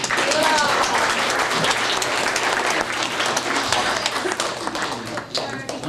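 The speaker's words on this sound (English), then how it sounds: "So give them an applause." Wedding guests clap for the newly married couple, a dense, fairly loud round of applause that tapers slightly toward the end, with faint voices mixed in.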